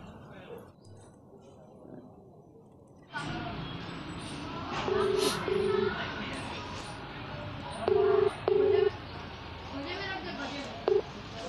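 Telephone keypad tones beep in short pairs and singles as a number is dialed on a phone, clear over background voices and room noise during a comedy skit.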